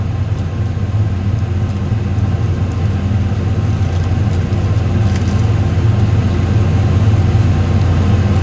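A tractor engine runs steadily with a loud, constant low-pitched drone from inside the cab, unbroken throughout.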